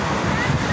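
Strong sea waves roll in at a Lemery, Batangas beach at high tide during the southwest monsoon, a brief, steady close roar of surf and wind-buffeted noise.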